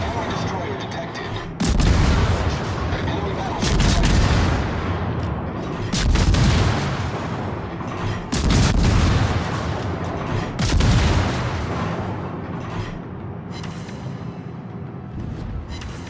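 Heavy naval gunfire in World of Warships, with repeated deep booming salvos arriving every couple of seconds over a continuous rumbling battle backdrop, while a radio-style voice calls out orders.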